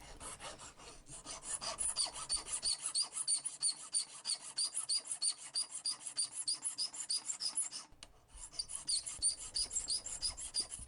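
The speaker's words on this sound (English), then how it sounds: "that's me just filing some of the case off a little bit" A hand file works the metal case of a watch being made, with quiet, even rhythmic strokes. They pause briefly, then resume at the same pace.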